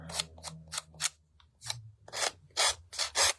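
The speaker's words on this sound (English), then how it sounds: "or an emery board, and just file those off" Short rasping strokes of an emery board filing the edges of a handmade card, about a dozen close, quick scrapes in uneven bursts with no talking.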